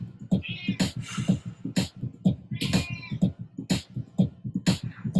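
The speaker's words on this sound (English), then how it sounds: "This should be endurance to see how long I can get bullied by a cat." A cat meows over and over in a close, insistent run of short cries, some stretched into whiny caterwauls, filling the whole stretch without talk.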